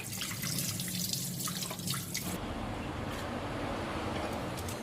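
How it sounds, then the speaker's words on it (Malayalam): Running water splashing as chopped cabbage is rinsed for juicing, with scattered drips, then a steadier, fuller rush of water for the second half. "ക്യാബേജ് കട്ട് ചെയ്തതിന് ശേഷം ഇങ്ങനെ കഴുകിയെടുത്താൽ"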